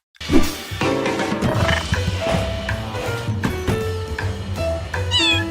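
A cartoonish cat meows from the video game Little Kitty, Big City, loud and close, in a series of drawn-out mews over a light game soundtrack.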